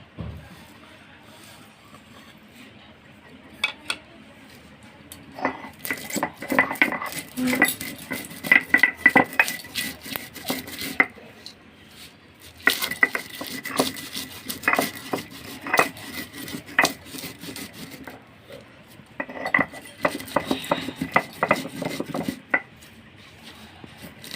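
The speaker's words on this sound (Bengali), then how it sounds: "এবারে আমি এগুলো শিলনোড়ায় গুঁড়ো করে নেব।" Roasted spices crushed on a shil-nora grinding stone: long runs of rapid, rhythmic rasping and knocking strokes, close and fairly loud, separated by brief quiet breaks.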